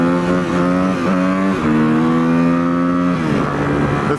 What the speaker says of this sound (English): it's his first time riding a motorcycle on Maui